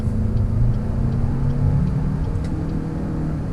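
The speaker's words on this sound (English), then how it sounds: "Now the engine, excuse me, doesn't sound that good, and you don't really get much of an exhaust sound" A 2023 Chevy Malibu with a 1.5L turbo engine being driven, giving a low, steady, muted drone and whir from inside the cabin with little exhaust note, alone and moderately loud.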